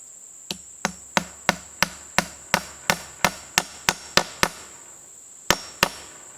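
Sharp, evenly spaced hammer blows nail an insulator into a wooden fence post on a pig pasture, about a dozen crisp knocks in a steady rhythm, then a pause and two more strikes, close and clear over a high insect-like drone.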